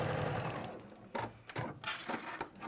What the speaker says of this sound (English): So I've sewn from outside the seam allowance to outside the seam allowance.